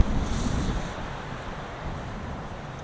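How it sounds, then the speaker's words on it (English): Strong wind gusts whip snow off winter mountains. A rough, rushing roar peaks in the first second, then eases into a steadier lower blustering. "the wind is just whipping the snow off the mountains"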